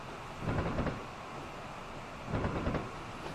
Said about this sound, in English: Running silent again, just the sound of the tracks there.